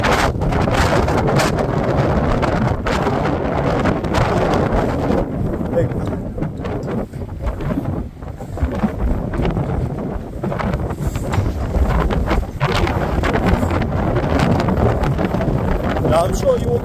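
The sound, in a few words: strong wind blowing on microphone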